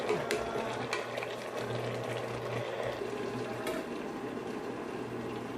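Pork kimchi stew simmers in a pot on the stove, a soft, steady bubbling that stays low and even throughout with no talking.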